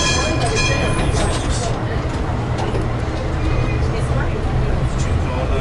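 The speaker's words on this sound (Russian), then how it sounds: "Старый-старый трамвай." An old tram with manual brakes rumbles along steadily in Antalya, Turkey, with low mechanical drone and rattling, continuous throughout, with faint background noise.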